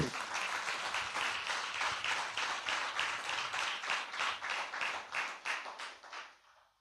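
A crowd at a Telugu Christian sermon applauds loudly with dense, sustained clapping in steady surges, then fades out over the final second.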